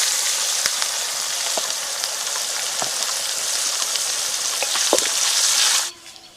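Sliced onions hit hot oil already holding whole garam masala, dried red chillies, cumin seeds and bay leaves, giving a loud continuous sizzle with scattered pops and crackles that stops abruptly near the end.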